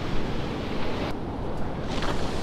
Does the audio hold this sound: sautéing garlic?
no